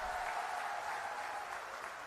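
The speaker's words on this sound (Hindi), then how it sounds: "तो जोरदार ताली हमारे उम्मीदवार करण सिंह जी के लिए बजा दो एक बार" A large crowd at a Congress political rally in Jodhpur claps steadily and loudly, a continuous wash of applause that eases slightly toward the end.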